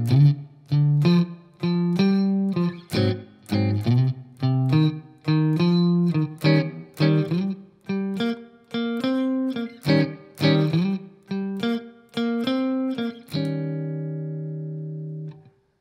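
Electric guitar with an effected, slightly distorted tone plays a blues turnaround, rhythmic repeated chord stabs ending on a long ringing chord, alone and close.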